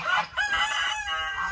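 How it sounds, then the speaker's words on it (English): A golden rooster on an animal sanctuary farm crows once, close and clear, in a short, fairly quiet call. "Look at this golden rooster."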